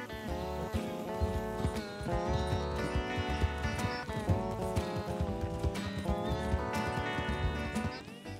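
Horse hooves clip-clop in a Western-style video game set around Saint Denis, the steady rhythmic steps mixed under dense, continuous game music.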